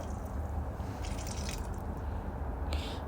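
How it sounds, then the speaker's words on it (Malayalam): Water is poured into a pressure cooker holding pumpkin, ash gourd and green chillies as a faint, steady wash of liquid that runs throughout without pause. No one speaks. "എന്നിട്ട് അത് മുങ്ങുന്ന അത്ര വെള്ളം അതിലേക്ക് ഒഴിക്കുക."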